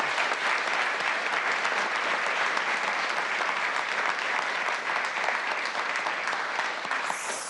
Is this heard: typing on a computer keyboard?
no